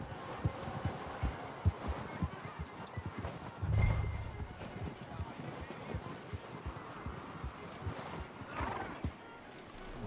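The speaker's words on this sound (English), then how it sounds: "Beleza, vamos amarrar o cavalo aqui." A horse in Red Dead Redemption 2, in a snowy setting, walks with steady, fairly close clip-clopping hooves and lets out one loud neigh partway through, mixed with soft game ambience and faint voices.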